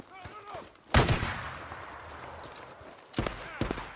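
Gunfire in the video game Days Gone: a loud burst of shots near one second, then two more sharp bursts late in the clip, over a low ambient bed.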